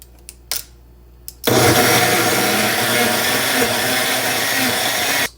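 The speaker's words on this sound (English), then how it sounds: "Chuck it in the blender." Countertop blender whirring as it mixes two scoops of Vega protein powder, a loud steady roar starting after a few brief clicks and running nearly four seconds before cutting off, close to the mic.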